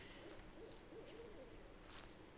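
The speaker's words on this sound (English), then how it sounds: "I can hear an owl." Owl hooting in the dark woods of the horror game Slender: The Arrival, soft distant hoots in a quiet, faint ambient background.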